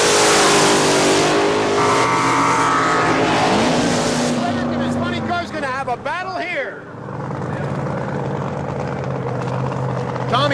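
Supercharged funny car at a drag race, a loud sustained engine roar dominating the first half, then shifting into revving sweeps and a fading, more distant drone.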